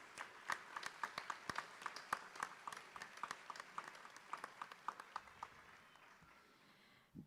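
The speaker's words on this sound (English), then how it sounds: "Give them a round of applause." Scattered hand clapping from an audience at an adult education graduation ceremony, moderately quiet and steady before fading out near the end.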